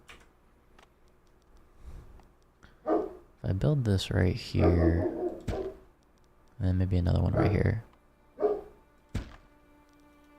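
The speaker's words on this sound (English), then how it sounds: "That's my dog going crazy." A dog barks excitedly in several loud bursts, some spaced apart and some in quick runs, while a person talks on and off in between and over the barking.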